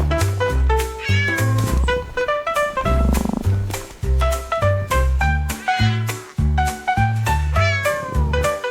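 Cat meows woven into a French children's nursery song, repeated musical meow-like calls riding over a bouncy rhythmic backing with steady bass notes and no talking.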